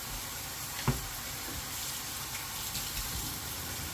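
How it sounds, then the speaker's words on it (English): Butter being stirred into a beef steak and mushroom pie filling that sizzles steadily in the pan, a soft continuous frying hiss with one brief clink of the spoon, heard close and alone. "It's about 40 grams of butter. Just stir that in."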